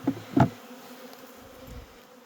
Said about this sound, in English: I'm gonna let the bees have it.